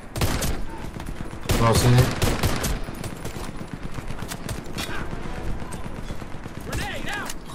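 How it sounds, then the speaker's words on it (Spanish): Heavy machine gun fire rattles in rapid bursts during a Warface shooter match, loud and dense, while a player talks briefly over the gunfire. "Cuidado con el... con la ametralladora pesada que hay ahí arriba"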